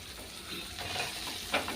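Potato is sautéed in a pan, with a soft continuous sizzle and a brief scrape of stirring near the end, close and fairly quiet.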